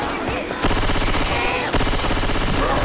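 Automatic gunfire fills a Left 4 Dead 2 game on the Cold Stream map, with dense, loud rapid-fire bursts that restart after brief pauses near the start and middle.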